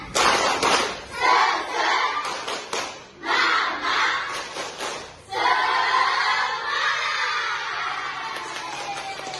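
Children clap together in a rhythmic classroom chant with a teacher, bursts of clapping and shouting in short repeated phrases, then a sustained louder group cheer.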